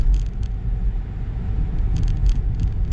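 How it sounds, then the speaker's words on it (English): Rear tires of a Tesla Model 3 RWD spinning on gravel, heard as a steady low rumble with crunching grit from inside the car, continuous and moderately loud with no talk. "it still spins the tires on gravel, which is not an ideal way to drive"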